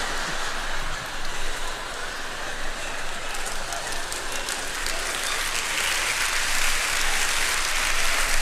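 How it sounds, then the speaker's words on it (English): Applause from a comedy show audience fills the whole stretch as a broad, continuous wash of clapping, fairly loud and even, with no voices standing clear of it. "Applause break."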